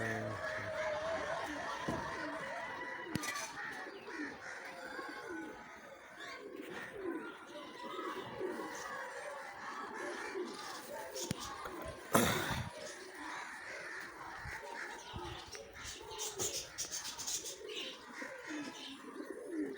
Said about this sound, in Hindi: तकरीबन सभी कबूतर नीचे उतर चुके